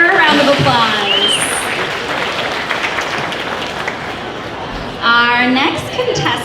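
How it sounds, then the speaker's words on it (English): Fair queen coronation audience at the Lebanon Area Fair applauding a contestant, a steady wash of clapping under speech from a nearby announcer, with a louder burst near the end. "Let's give her a round of applause."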